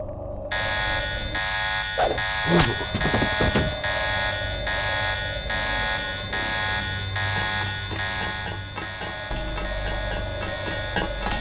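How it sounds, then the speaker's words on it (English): A facility alarm in the stealth shooter Deus Ex blares continuously in a loud, steady buzzing pulse with rhythmic repeats, joined by a few brief thuds early on and no speech. "That's him, sounding the alarm."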